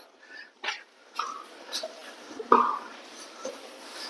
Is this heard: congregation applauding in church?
no